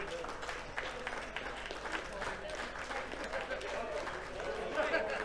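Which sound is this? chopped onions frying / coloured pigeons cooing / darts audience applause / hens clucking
darts audience applause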